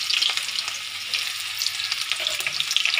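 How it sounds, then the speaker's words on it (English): Onion sizzling and frying in hot mustard oil in a pan: a steady, close, bright hiss with faint crackles throughout, no voices. "I'm going to put onion in the oil."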